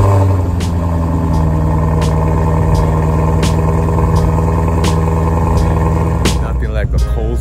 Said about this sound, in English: Nothing like a cold start with a nice exhaust.